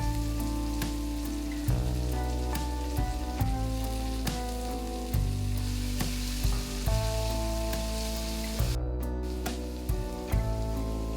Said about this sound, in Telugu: టూ టేబుల్ స్పూన్ల వరకు పచ్చి బఠానీని కూడా వేసుకొని కాసేపు ఫ్రై చేసుకోండి